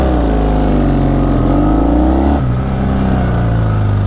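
A 1972 Yamaha XS2 650 parallel-twin motorcycle engine runs loud and close, climbing in pitch through a steady rev, then dropping back to a lumpy idle and rising again, with no talking.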